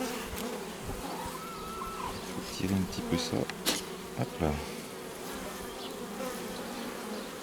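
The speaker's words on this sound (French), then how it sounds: "Il y a encore des abeilles dedans" Honeybees swarm in an open Miniplus hive during a brood inspection, a dense continuous buzz close to the microphone. Quiet speech and a few handling knocks sit over the drone.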